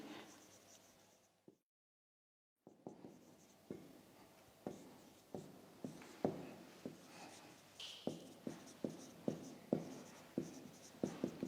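A pen writes a chapter number on paper in a series of scratchy strokes. After a short silence the strokes come back and grow into a quick, regular run of taps and scrapes near the end.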